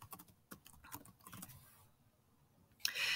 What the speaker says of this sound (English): So here I might type instructions, tips, tricks, anything I want to will stay on this document.